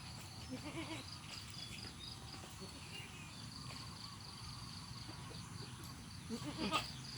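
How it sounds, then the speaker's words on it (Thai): A young goat on a farm bleats in short wavering cries, one early and a louder cluster near the end, over a faint bed of insect chirping and outdoor ambience. "แพะน้อยแพะน้อย"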